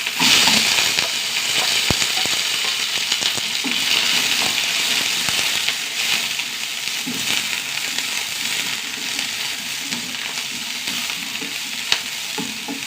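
Onion and green chillies stir in hot oil with curry leaves, a steady sizzle and fry running the whole time, broken by occasional scrapes of a spoon against the pan, close and fairly loud.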